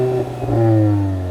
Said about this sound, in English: The Golf GTI has a sports exhaust.